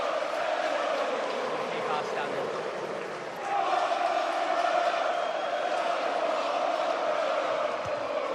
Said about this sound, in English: there's the round of applause that both Rob and Lindsay and kids deserve.